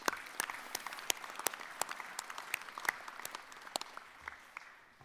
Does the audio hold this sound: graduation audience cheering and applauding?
yes